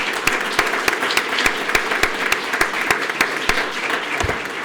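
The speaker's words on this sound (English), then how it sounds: "Let's give him all a round of applause" An audience at a Sarasota Police Department awards ceremony applauds Captain Jim Reeser: loud, close clapping with sharp individual claps standing out in a fairly regular pattern over a softer wash of hands, continuing steadily without speech.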